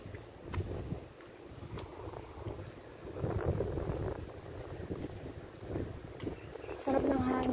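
Outdoor wind buffeting the microphone in uneven gusts, with a person talking over the blustery rumble.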